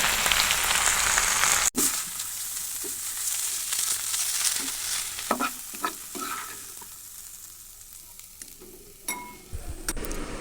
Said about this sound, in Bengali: এখন একটু জোরে জাল দিব শাকটা কমে আসবে তারপরে ভাজবে